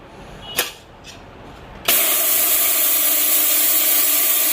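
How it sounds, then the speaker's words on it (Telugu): A mixer grinder grinds toor dal chutney. After a couple of soft clicks it switches on abruptly and whirs loud and steady to the end. "మిక్సీ కొట్టాలి."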